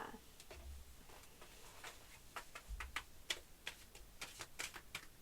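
Tarot cards being shuffled, faint crisp clicks and ticks coming in irregular bursts, with no voices over them.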